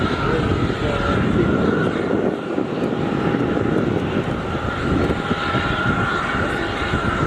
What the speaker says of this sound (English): The A320 has lined up on final.